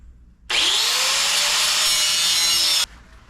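A single long pass of a power saw cutting through wood to trim an anvil stand, loud and close, a steady high whine that starts and stops abruptly, with no talking.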